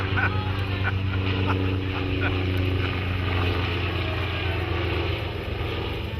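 Antonov AN-2 Colt biplane making a slow low pass at an air show, its radial engine droning steadily and loudly throughout with a strong low harmonic hum.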